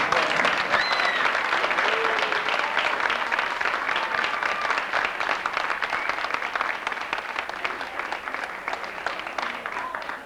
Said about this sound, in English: I think we can give everybody a collective round of applause